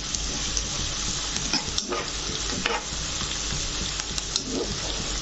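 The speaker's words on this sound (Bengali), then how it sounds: "এটাকে আমি এইভাবে কিছুক্ষণ নাড়তে থাকবো। যতক্ষণ না পেঁয়াজের কাঁচা গন্ধটা কাঁচা গন্ধভাব কাটছে" Onions sizzle in a hot pan while being stirred, a dense steady frying hiss broken by brief scraping strokes of the spoon, close and with no talk.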